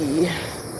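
Bees buzz on a farm in Grovetown, Georgia, a brief close, steady droning hum with a short rising and falling pitch, heard alone.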